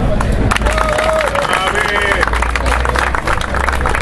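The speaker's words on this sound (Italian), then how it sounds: "facciamo un applauso" Applause rises from an audience at a town gathering welcoming a newly elected vice mayor, a dense steady wash of clapping mixed with voices and crowd chatter.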